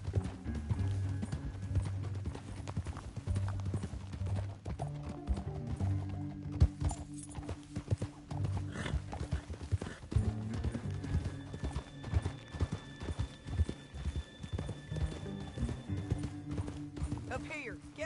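Horses gallop in Red Dead Redemption II along a canyon trail, a steady clip-clop of hooves under game music, with a neigh and characters talking over the riding.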